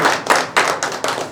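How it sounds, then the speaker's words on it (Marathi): A short burst of hand clapping from an audience welcoming a newly elected secretary of a Padmashali community association, about five distinct loud claps in quick uneven rhythm, close by, with no talk. "त्यांचं सर्वांनी टाळ्या वाजवून अगोदर स्वागत करणं गरजेचं"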